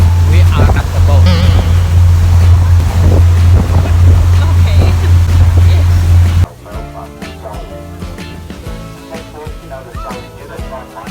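A boat out on the water at Milford Sound, with a steady loud engine drone and wind buffeting the microphone, which cuts off abruptly about two-thirds through to quieter ambient sounds.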